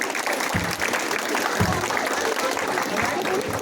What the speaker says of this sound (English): Let's send them off a roaring round of applause